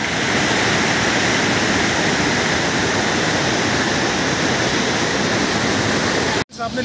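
Mukkha Falls pouring with strong flow, a loud dense unbroken roar of falling water close by that cuts off abruptly near the end.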